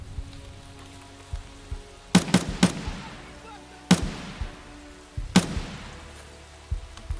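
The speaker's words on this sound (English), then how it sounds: "Just trying to get in a firefight." Gunfire rings out during a firefight in the video game Escape from Tarkov: a quick burst of three shots, then single sharp cracks spaced a second or two apart, each echoing over quiet ambience.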